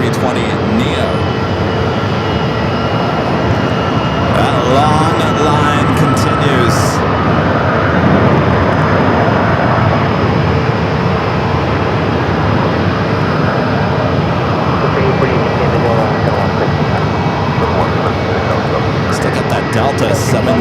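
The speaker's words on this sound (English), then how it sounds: "Coming in from Dallas Forward, Texas, shoot the Beacon livery, flight 3971 and A320 Neo." A Frontier Airbus A320neo jet arrives from Dallas Fort Worth at Phoenix Sky Harbor airport, giving a steady, loud broadband engine roar that holds for the whole stretch with a faint tonal whine above it.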